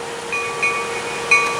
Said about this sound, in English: The Mohawk, Adirondack, and Northern engines will be taking our train to Thendara and back.